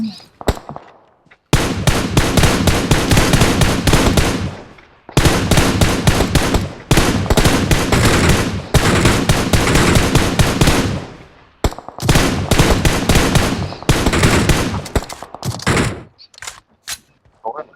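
Loud, close bursts of rapid automatic gunfire from a PUBG Mobile match, several sustained volleys separated by short pauses and ending in a few scattered shots, with no talk over them.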